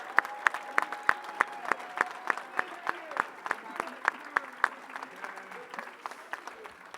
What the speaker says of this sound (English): We're going to give you the last round of applause.